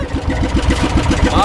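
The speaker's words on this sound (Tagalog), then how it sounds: "Nalunod lang kasi yung makina" A flooded boat engine being cranked, giving a rapid, rhythmic low chugging that turns over repeatedly without catching, close by, with voices talking over it.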